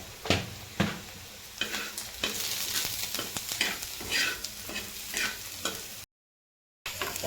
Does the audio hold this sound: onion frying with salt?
yes